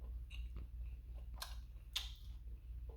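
Chewing crunchy deep fried mackerel, a few faint, crisp crunches and bites spaced through a quiet close-up moment, with a low steady hum behind and no talking.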